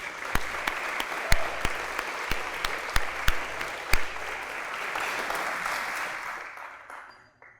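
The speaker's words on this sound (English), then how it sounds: "So if we could we give them a round of applause, please?" Audience at a school district retirement dinner gives a round of applause, a broad sustained clatter with a few sharp nearby claps, then dying away toward silence at the end.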